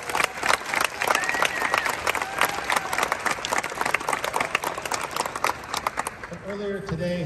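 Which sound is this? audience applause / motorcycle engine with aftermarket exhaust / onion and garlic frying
audience applause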